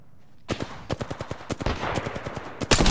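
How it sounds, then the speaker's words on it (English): Rapid bursts of gunfire in an Apex Legends match crack out in quick succession, a steady close stream of sharp shots with a few louder blasts near the end. "Shot fired. And they're hitting me. Firing."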